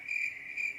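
A cricket sound effect chirps in two bursts of steady high trilling, clear and alone with no talk.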